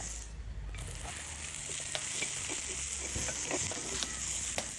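Onions and garlic fry in a pan for a Jaffna-style brinjal curry, giving a soft, continuous sizzle with scattered light crackles, quiet and close, and no one talking.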